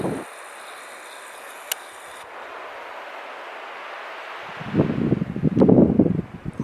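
Wind gusts through a burned forest on a high mountain trail in the backcountry wilderness, a steady soft rush that swells into louder buffeting gusts toward the end.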